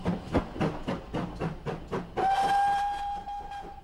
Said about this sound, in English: the engine chosen to pull the funeral train